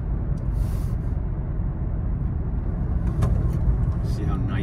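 A 1998 Mercedes-Benz C180 World Cup Champion Edition corners at speed, heard from inside as a steady broadband road and engine rumble with wind noise, someone talking over it.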